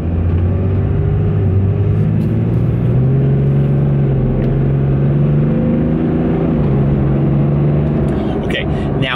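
An old Cummins diesel engine in a 4x4 dually truck rumbles at a steady idle with a low droning tone that shifts slightly in pitch, loud and close, with faint clicks near the end.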